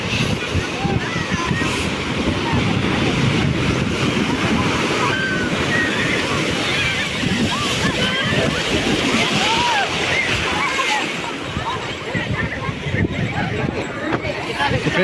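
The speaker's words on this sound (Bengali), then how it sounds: "ঢেউগুলো আসতে দেখতেই পাচ্ছ" Sea waves roll in and break on Puri beach, a loud continuous surf roar with wind buffeting the microphone throughout.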